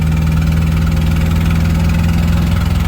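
An old motorhome engine drones loudly and steadily from inside the cab while driving, a low rumbling hum with constant vibration and no change in pace, with no talking.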